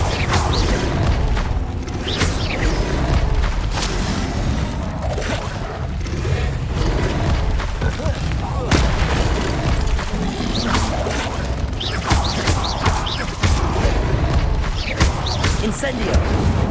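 Incendio fire spell cast in Hogwarts Legacy combat, bursting out as loud booms and thuds amid ongoing fight clatter, with a voice calling out over the action.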